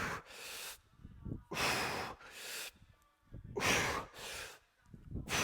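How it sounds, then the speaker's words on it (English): Forceful workout breathing, with sharp powerful inhales and aggressive exhales, comes in close, loud, rhythmic bursts, alone with no talk. "The exhales are aggressive. The inhales are sharp and powerful."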